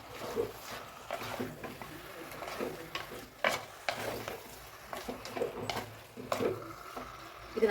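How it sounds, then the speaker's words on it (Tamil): Chicken pieces, about 1 kg, sautéing in oil in a pan for a chicken curry, with a soft steady sizzle and occasional scraping stirs and light clinks of the utensil against the pan. "இதில் போட்டு இந்த ஆயிலே நல்லா வதக்கிடணும்."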